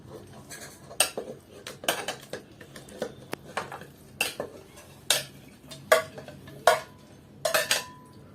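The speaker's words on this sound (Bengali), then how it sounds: "টমেটো কাটা স্টাইল আমি আপনারা দেখাইয়া দিলাম" Green unripe tomatoes being sliced thin with a knife on a board, producing a run of crisp, close chopping knocks at an uneven pace, each stroke distinct and fairly loud, with no talking.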